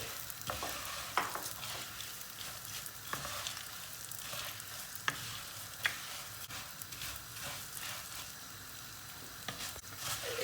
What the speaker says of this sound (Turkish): Eriştemiz kavrulmaya başladı.